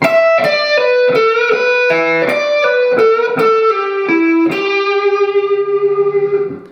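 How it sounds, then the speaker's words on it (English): An overdriven electric guitar plays a descending minor pentatonic lick, notes stepping down steadily before settling on a final sustained, shimmering note. "there we're descending down the minor pentatonic scale"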